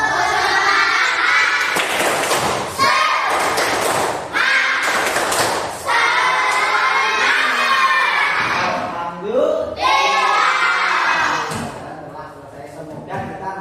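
Schoolchildren in a classroom clap together in loud, rhythmic bursts of a cheer clap, with shouting voices mixed in between the bursts.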